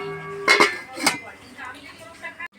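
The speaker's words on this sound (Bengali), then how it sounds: "এই যে আমি জল দিয়ে দিয়েছি, এবার ঢাকা চাপা দিয়ে রেখে দেবো সেদ্ধ হওয়ার জন্য।" Metal clinks and clanks of a lid being set onto a cooking pot of water on the stove, a few sharp knocks close by, with someone speaking softly in between.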